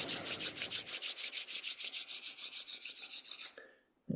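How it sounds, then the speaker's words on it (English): Hands rubbed briskly together, a fast even run of close, loud swishing strokes that stops abruptly near the end, with no talking. "I do that by rubbing my hands together"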